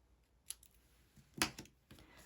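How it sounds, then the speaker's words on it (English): Scissors trimming a paper bee wing cut from vellum for a punch art tag: a few quick, close snips spread out and soft, the clearest cut near the middle of the short stretch, with no talk. "We're gonna have to cut a little bit off."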